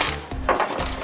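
A ratchet with a 10mm socket clicks quickly up close while loosening a hood bolt on a 2005-2009 Pontiac Torrent or Chevy Equinox, a brief dense burst of pawl ticks.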